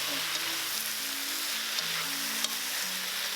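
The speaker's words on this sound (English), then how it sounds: "Quickly stir fry in high heat until everything is combined, but be careful not to break all the noodles." Beef chow fun noodles stir-fry over high heat in a hot pan, a loud, dense, continuous sizzle with a few light spatula taps, alone and close.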